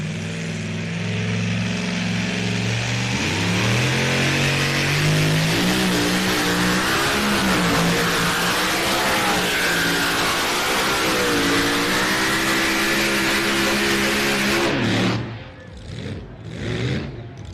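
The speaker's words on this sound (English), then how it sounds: "And the RPMs came up towards the end of the run there." A pulling tractor's engine roars loud and close through a tractor pull run at a European Championship event in Edewecht, Germany, its pitch climbing steadily toward the end before cutting off abruptly, followed by a few brief lower bursts.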